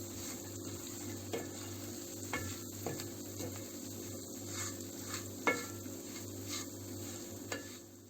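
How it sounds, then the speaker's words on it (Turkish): Semolina being stirred and toasted in a pan while making milky semolina halva, a soft steady scraping and faint sizzle with occasional clicks of the spoon against the pan, quiet and continuous with no talking. "irmiğimizi bu şekilde sürekli karıştırıyorum"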